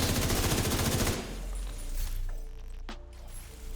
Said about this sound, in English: I'm just shooting regular NPCs to show you the critical hit chance.